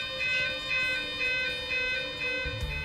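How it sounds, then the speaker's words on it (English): A continuous two-tone site fire alarm siren at a chemical plant, a steady electronic tone alternating in a regular rhythm, heard alone and fairly faint throughout. "The site alarm is a continuous two-tone siren and sounds like this."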